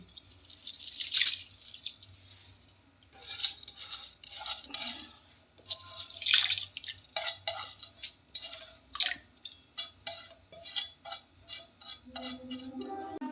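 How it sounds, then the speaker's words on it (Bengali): Washed red lentils (masoor dal) tipped into water in a kadai for Bengali tok dal with raw mango: a few wet splashes and metallic clinks, then scattered drips and soft stirring knocks, close by and intermittent, with no talking. "এরপর আমি মুসুর ডালটা এই জলের মধ্যে দিয়ে দিচ্ছি"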